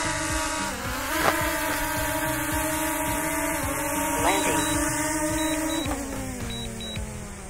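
A DJI Mini 2 drone hovers close by with a steady high-pitched propeller whine and buzzing harmonics that dip and rise as it descends to land, running continuously and loud throughout, with voices talking faintly underneath.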